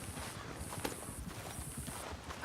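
Steady hoof clip-clops from a horse on the move in Red Dead Redemption 2, a continuous low patter with game-like ambient hiss over it.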